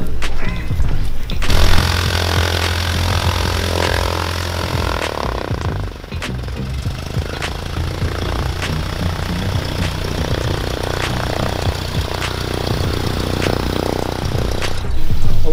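A Cessna 152 light aircraft engine runs after starting, close and loud, with a steady rough propeller drone that holds throughout and varies only slightly in intensity.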